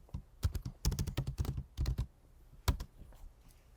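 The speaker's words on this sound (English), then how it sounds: "Go ahead and put in your password." Password being typed on a computer keyboard: a close run of quick, uneven keystrokes in several bursts, then a short pause and a few final taps, with no talking.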